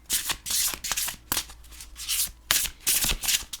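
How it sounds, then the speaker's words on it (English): A deck of Magical Spirit Oracle cards is riffled and shuffled close to the microphone, giving repeated crisp papery bursts in an irregular rhythm, each flurry separated by brief quiet gaps. "Now let's do the shuffle test."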